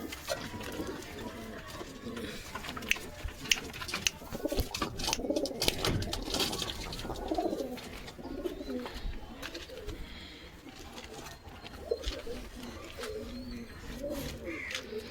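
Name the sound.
pigeons cooing in a loft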